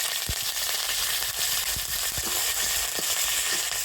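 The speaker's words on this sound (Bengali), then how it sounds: "তো সর্ষে আর কারি পাতাটা একটু ভেজে নেব।" Mustard seeds and curry leaves fry in a spoonful of white oil. The steady, close hiss is broken by a scatter of sharp crackles and pops as the seeds burst, with no talking.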